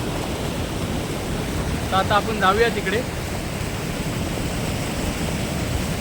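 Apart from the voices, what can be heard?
rushing water flowing forcefully over a weir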